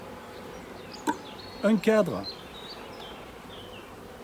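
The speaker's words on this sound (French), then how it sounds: "Vous voyez que ça attire les abeilles." Honey bees drawn to a hive frame stocked with pollen and nectar, faint buzzing in the background with a few brief louder passes as someone speaks briefly.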